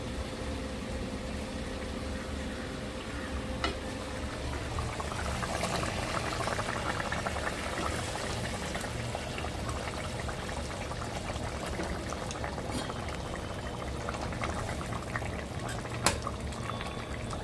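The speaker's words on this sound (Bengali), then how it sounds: "তো বন্ধুরা দেখুন পুরো ঝোলটা ফুটে গেছে ভালো করে টকবক করে" Mustard-paste curry gravy for parshe fish boils at a steady, even rolling bubble close by, a continuous dense simmer with one faint clink near the end.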